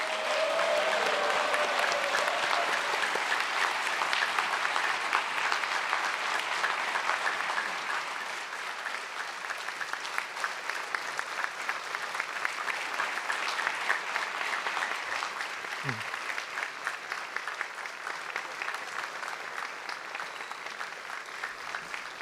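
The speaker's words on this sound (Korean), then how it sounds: "다시 한번 대통령님께 큰 박수 보내주시기 바랍니다." Large crowd applauding steadily at the 21st South Korean presidential inauguration, a dense sustained wash of clapping heard from a distance that eases slightly partway through and keeps going.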